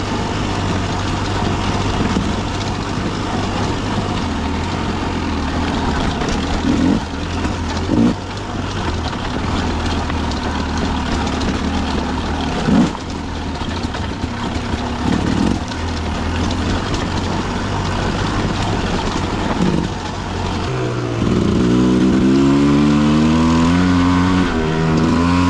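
A GasGas 300 dirt bike ridden at night with an LED headlight, its engine droning continuously and loud up close, the pitch shifting with throttle and rising in revs near the end.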